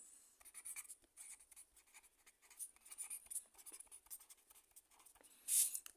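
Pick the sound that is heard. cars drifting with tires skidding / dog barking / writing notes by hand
writing notes by hand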